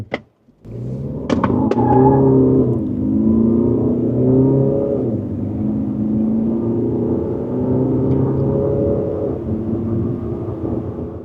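A Hyundai Palisade 2WD SUV accelerates hard from standstill toward 100 km/h, its engine note rising steadily through the gears in a loud, continuous drone heard from inside the cabin.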